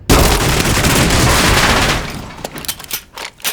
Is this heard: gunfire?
yes